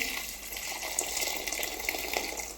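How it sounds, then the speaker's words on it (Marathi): Hot water poured into a pan of Marathi-style crab curry gives a continuous splashing, gushing pour of moderate loudness, heard alone without talk. "ह्यामध्ये थोडंसं गरम पाणी ॲड करून घ्यायचं आहे आपल्याला"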